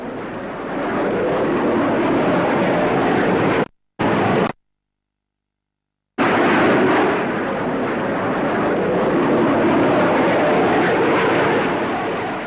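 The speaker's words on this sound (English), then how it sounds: "Finally, to round off this great show, the Hawker Hunter." A Hawker Hunter F4 jet roars loudly past at a 1950s Farnborough airshow, a dense, sustained rushing thunder that cuts out abruptly twice before surging back at full strength.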